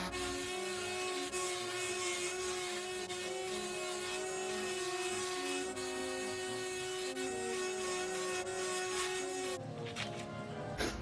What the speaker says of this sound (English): I am going to use my sander now and only distress the white stripes.